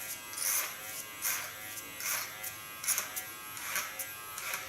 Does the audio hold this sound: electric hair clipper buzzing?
yes